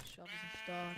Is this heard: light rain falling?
no